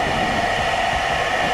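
A Philips Sense IQ smart hair dryer on its gentle setting blows with a steady, loud, even rush of air close by, with no change in tone and no one talking.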